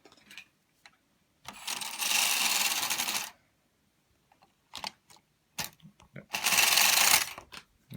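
A knitted cable cord is taken off a knitting machine, giving two bursts of rapid rattling clatter, each about two seconds long, close by. Scattered clicks and light handling noises fall between them.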